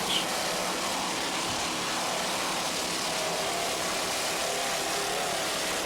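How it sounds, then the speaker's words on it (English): Offshore racing powerboats with Stotler racing engines in a D class race off Fort Lauderdale, heard as a steady, dense engine roar with broad hiss, continuous and fairly loud throughout, no voices. "Just listen to those Stotler racing engines."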